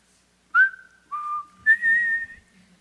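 A preacher whistles a short, cheerful tune during a Sunday church sermon: three clear whistled phrases in a row, close and moderately loud, with no talking over them.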